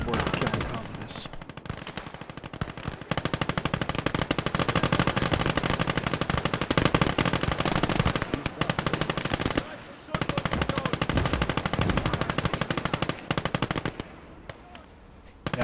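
Sustained machine-gun fire in the WWII strategy game Gates of Hell, German conquest campaign, with long rapid bursts that run almost continuously, loud and close, pausing briefly before resuming.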